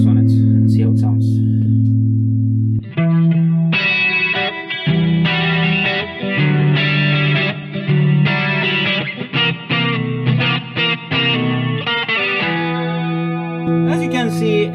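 An electric guitar runs through a JHS NotaDumble overdrive pedal with chorus and reverb added, playing loud, close, shimmering chords and quick strummed phrases with a slightly wavering, sparkly top end, opening on a sustained low note.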